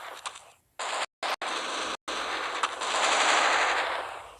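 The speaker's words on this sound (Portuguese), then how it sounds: "metralhadora agora" Machine gun fire in the Counter-Strike Portable video game, a long sustained burst of rapid automatic shots broken by a few brief silent gaps, loud and close.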